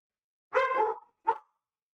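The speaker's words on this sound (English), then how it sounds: "Puppy's getting all excited." An excited puppy lets out two quick, close barks, a longer yelping bark followed by a shorter one, with quiet between them.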